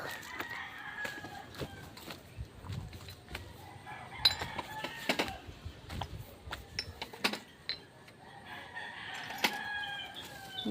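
Chickens cluck and a rooster crows intermittently, with scattered sharp calls over a low background of farmyard noise.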